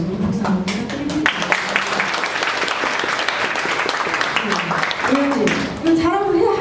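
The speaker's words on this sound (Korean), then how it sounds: "여러분 박수 한번 부탁드립니다" An audience at a book talk breaks into sustained clapping, a dense wash of applause lasting several seconds, with voices speaking over and around it at the start and end.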